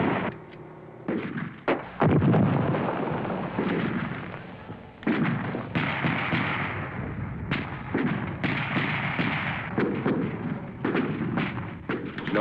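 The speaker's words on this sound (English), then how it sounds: "The Viet Cong are plowing the field with bullets." Vietnam War battle gunfire: dense, continuous volleys of rifle and machine-gun shots with heavy booming impacts, rolling and overlapping for the whole stretch, loud and chaotic with brief lulls.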